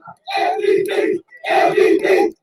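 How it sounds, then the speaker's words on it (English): Crowd at a high school football game cheering in two loud bursts, a roar swelling, dropping briefly, then rising again, with shouting voices mixed in. "you see the crowd getting into it"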